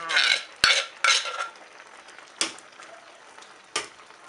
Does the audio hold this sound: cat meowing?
no